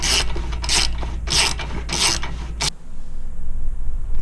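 A ratchet wrench tightens the outer tie rod end nut on an EK Honda Civic sedan, giving four rhythmic bursts of ratcheting clicks up close before stopping.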